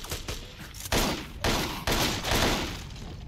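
Dense, continuous video-game gunfire from Total Overdose, with rapid overlapping shots and loud bursts of impacts packed into a few seconds, with no talk.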